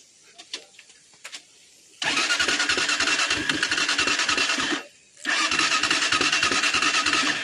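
A motorcycle push-button electric starter cranks the engine on an uphill road, and it fires after faint clicks. The engine runs loud and close with a steady rumble, cuts out briefly, then restarts and runs on.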